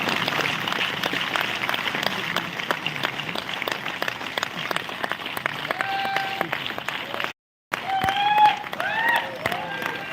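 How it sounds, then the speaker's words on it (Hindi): Continuous clapping from a seated audience at an agricultural training session in Hindi, dense and steady under a voice, with a brief cut of silence near the end before the clapping resumes with some whistles. "आपकी ताली बजती रहनी चाहिए।"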